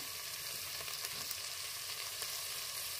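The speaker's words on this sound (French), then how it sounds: "Après que le beurre soit fondu, j'ajoute les oignons." Onions sizzle in melted butter in a pressure cooker for a carrot soup, a dense, steady hiss with faint crackles, close and even throughout.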